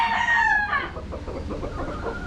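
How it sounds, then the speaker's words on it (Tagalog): A gamefowl rooster crows loudly and close at Red Gamefarm, a single ringing call that fades into clucking and farmyard noise. "Ayan, ang gandang manok nito."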